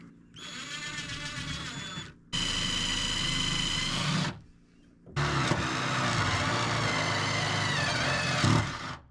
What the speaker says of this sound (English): we have our stepper bit. I'm just gonna put a little bit of oil on it